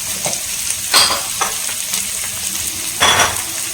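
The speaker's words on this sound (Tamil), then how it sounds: "இது நல்லா ரோஸ்ட் ஆகுது." Snack ingredients roasting in a hot pan with dried red chillies, a continuous sizzle broken by several sharp louder crackles and spatters as the food is stirred, with no talking.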